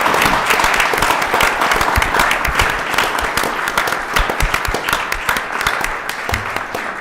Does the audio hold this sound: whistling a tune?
no